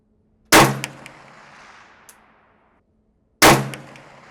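Two loud, close rifle shots from a military-surplus rifle with its sights at maximum 2,000-meter elevation on a firing range, about three seconds apart, each a sharp crack followed by a ringing decay.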